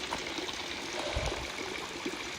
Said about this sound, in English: Here's one of those little water fountains that they have in Switzerland I was talking about.